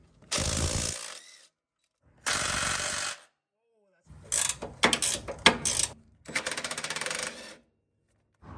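Ratchet wrench working 17mm nuts off the bolts of a rear upper control arm during a reinforcement bracket install, heard as several close bursts of rapid clicking separated by pauses.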